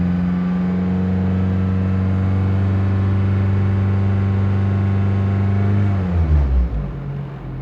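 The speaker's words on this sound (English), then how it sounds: "I'm going to rev the engine to see if the other cylinders start misfiring." A Toyota Celica engine with misfiring cylinders holds a steady, droning high idle, then the revs drop off sharply, the tone sliding down and wobbling as it settles.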